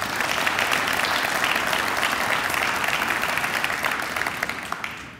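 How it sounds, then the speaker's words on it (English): Dense audience applause at a sponsor appreciation moment during a military affairs event, loud and even throughout before tapering off at the very end. "So if I give our sponsors another round of applause"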